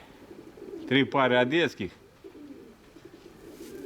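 Low, soft cooing from pigeons, including a black hen pigeon, sits beneath a man's speech and carries on faintly after he stops, with strong wind in the background.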